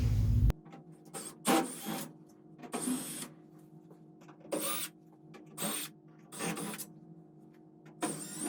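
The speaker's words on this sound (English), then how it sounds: "Utilizing a screw gun, I will remove the Phillips head machine screws that hold the front cover on." A screw gun backing out Phillips head machine screws from the front cover of an IsoClean HEPA filter unit, in a series of short whirring bursts with pauses between, close and moderately loud.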